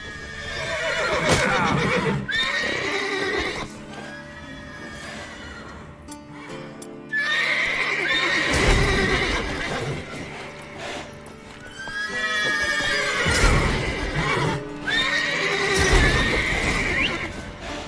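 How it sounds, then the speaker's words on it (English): Horses in The Witcher 3: Wild Hunt neigh and whinny loudly in repeated shrill calls, alongside clip-clopping hooves and stable clatter close by. "Gotta calm all the horses before they wake the guards."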